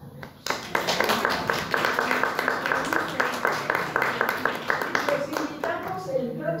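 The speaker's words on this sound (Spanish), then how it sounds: "la despedimos con otro aplauso" An audience gives sustained applause to see off a speaker at a talk, with many hands clapping in a brisk, fairly close rhythm and a few voices heard beneath it.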